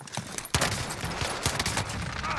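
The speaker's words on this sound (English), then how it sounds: "The MP7 is unreal! It's a hipfire machine." MP7 submachine gun fired from the hip in a video game, loud rapid bursts of gunfire close by, dense and sustained with short breaks.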